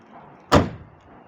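The front door of a Lada 2109 Samara swings shut with a single sharp, close thud, a quick metallic slam that fades fast against a quiet background.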